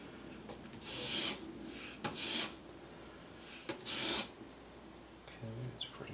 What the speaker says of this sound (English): It's going to stick with a factory edge, just sharpen it up.